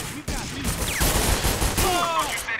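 Heavy gunfire fills a 50 Cent video game, dense overlapping shots and bursts coming without a break, loud and close, with game effects layered over the barrage.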